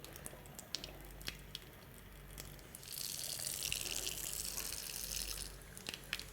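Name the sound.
water running from a tap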